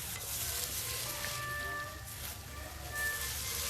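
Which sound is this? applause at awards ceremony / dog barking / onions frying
onions frying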